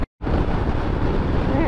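Strong wind buffets a microphone on a motorcycle riding solo along historic Route 66 through dry Arizona desert near Dry Creek, a loud continuous roar that starts after a brief moment of silence.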